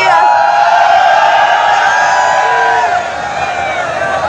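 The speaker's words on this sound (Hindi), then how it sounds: "सो गाइस देख सकते हैं कितनी ज़्यादा यहाँ पर भीड़ है" A large, dense crowd at the Lathmar Holi festival in Nandgaon roars steadily and loudly close by, with whoops and shouts rising above the continuous din before it eases slightly near the end.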